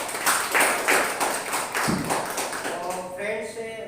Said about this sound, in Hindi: अपने आप के लिए एक बार जोरदार तालियां।